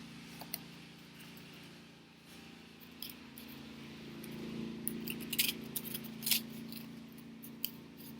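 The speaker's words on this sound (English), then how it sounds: "Cutting those corners off really does help with this." Scissors snip the corners off a paper book cover, giving a few sharp, close clicks and crisp cuts spaced irregularly over a steady low background hum.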